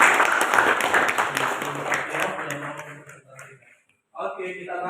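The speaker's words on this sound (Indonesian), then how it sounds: "Tepuk tangan untuk kelompok 4." A classroom of students claps for a presenting group. Dense applause with talk mixed in fades over about three seconds, then a brief silence is followed by a voice speaking.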